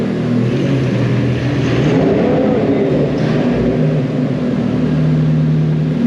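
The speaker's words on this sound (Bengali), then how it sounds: "তো বাইকের সাউন্ড তো আপনারা শুনতেছেন তাই না" A Toyota Marion car engine runs steadily close by, its low rumble swelling as it revs up around the two-second mark and easing back to a constant idle-like drone.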